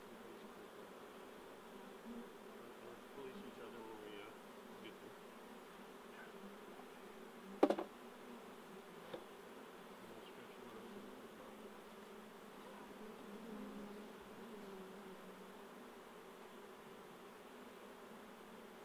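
Honeybees buzzing steadily around a beehive in Alaska, a continuous low hum with a couple of brief closer clicks or knocks partway through.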